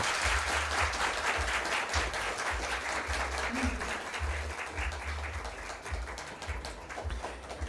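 A school quiz competition audience applauds two lycée teams, René Préval and Jean-Marie Vincent, with a sustained, even roar of many clapping hands, a low rhythmic thumping running beneath throughout.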